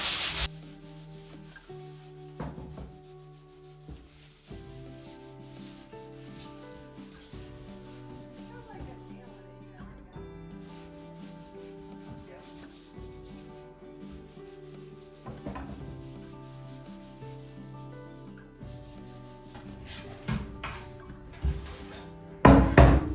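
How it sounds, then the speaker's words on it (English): Hand sanding on a painted wooden farmhouse sign to distress it, with steady close rubbing strokes in an uneven rhythm and a few louder knocks near the end, with no voices over it. "So I'm just distressing the top"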